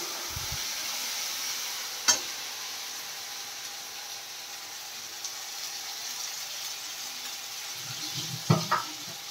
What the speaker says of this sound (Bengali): এরপরে পেঁয়াজটাকে লাল করে ফ্রাই করে নেওয়া হবে